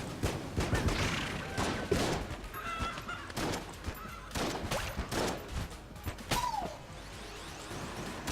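Rapid gunfire from the video game Enter the Gungeon bursts out in a dense series of loud, punchy shots with whooshing projectile sounds, continuing almost without pause across the whole stretch.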